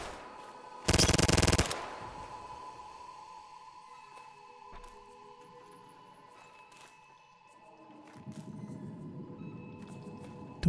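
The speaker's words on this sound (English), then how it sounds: "he's getting shot by a ceiling turret now" A ceiling-mounted turret in Fallout fires one loud, sharp automatic burst lasting under a second, followed by quieter game ambience, scattered impacts and a low rumbling hum later on.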